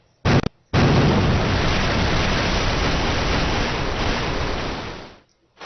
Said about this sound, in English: The window burst, and water began to pour into the room.